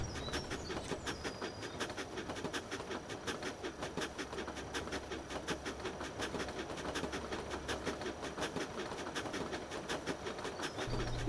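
Steady rhythmic clickety-clack of a train rolling over rails in the video game LEGO City Undercover, continuous and moderately loud with no talking.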